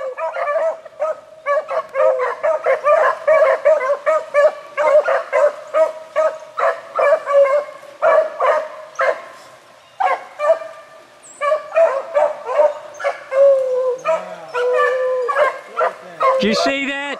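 A pack of beagle hounds bays and barks loudly on a hunt outdoors, overlapping yelps and howls in dense bursts with brief pauses, several dogs sounding together near and farther off.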